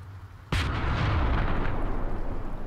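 Tank gun fires once in the Call to Arms video game, a sudden loud boom with a long rumbling tail of battle noise continuing afterward.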